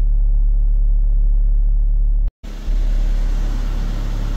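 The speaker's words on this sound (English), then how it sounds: "exhaust has a leak somewhere" A 2008 Dacia Logan MCV engine with an exhaust leak, idling as a steady low rumble close by, briefly cut off midway before the idle resumes.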